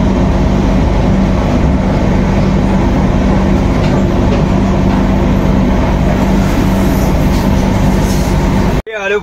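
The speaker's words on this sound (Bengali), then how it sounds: "এই ট্রেন চলছে" A passenger train runs steadily, a loud continuous rumble with rhythmic clatter of the wheels on the rails, heard up close from onboard, with a brief abrupt shift right at the end.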